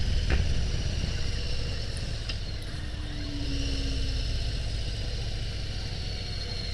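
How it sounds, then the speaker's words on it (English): A 2022 Harley-Davidson Low Rider ST motorcycle under way, its engine a steady, deep rumble blended with constant wind noise, heard from the rider's position without any talk. "You can definitely hear a lot of engine noise on this one"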